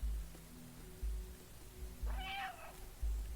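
A cat in a game set in an abandoned city gives one clear, mid-length meow partway through, heard alone over a quiet, low rhythmic background thump.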